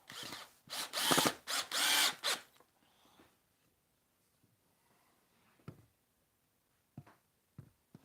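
Power drill with a countersink bit boring a clearance hole in hardwood for a shelf bracket: several short loud whirring bursts close up, then quiet with a few faint knocks and taps.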